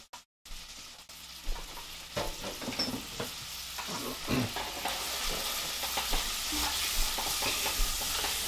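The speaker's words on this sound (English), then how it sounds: "we're just gonna heat the oil here, and then I'm gonna add my sofrito ingredients" Sofrito ingredients hit hot oil in a pan with a sudden sizzle, then keep frying steadily while a utensil stirs and scrapes them in irregular bursts, close by.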